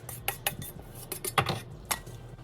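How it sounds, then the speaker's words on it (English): A utensil clinks and scrapes repeatedly against a pot while ground beef is stirred for hamburger soup, in a quick irregular rhythm, close up with no talk. "Now stir and simmer for about another 3 to 5 minutes."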